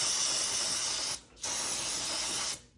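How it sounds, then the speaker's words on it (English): Brake cleaner sprayed from an aerosol can onto a disconnected brake hose connection: two close, steady hissing bursts, the first about a second long and the second longer, separated by a brief pause. "So we spray it with brake cleaner."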